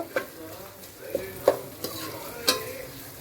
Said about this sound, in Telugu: అల్లం వెల్లుల్లి పేస్ట్ కొద్దిగా వేగింది కదా